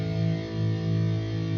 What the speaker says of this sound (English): A really nice chunky power chord, and with distortion, it sounds awesome